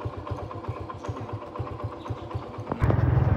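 A motorcycle engine putters in a steady rhythmic idle, then revs louder and rougher in the last moments.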